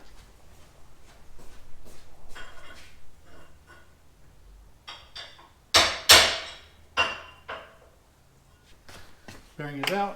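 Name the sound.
hammering a bearing out of a sand rail part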